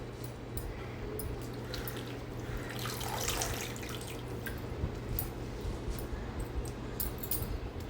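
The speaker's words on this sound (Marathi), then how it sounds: "धुवून झाल्याच्यानंतर एका चाळणीमध्ये मी पाणी निथळायला ठेवणार आहे" Steady trickling and dripping water runs throughout as washed tandulja (amaranth) greens drain in a sieve, a continuous wet patter with a low hum underneath.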